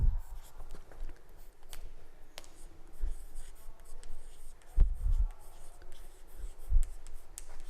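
Pen or pencil writing out a maths integration-by-parts solution on paper, a quiet continuous scratching with a few louder bumps as the page is handled, close and alone without talk.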